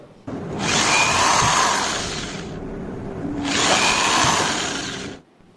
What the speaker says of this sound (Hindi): उनमें से एक टुकड़े पे इस प्रकार से हम छेद कर लेंगे ड्रिल मशीन के द्वारा।